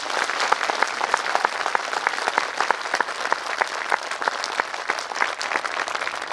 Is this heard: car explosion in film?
no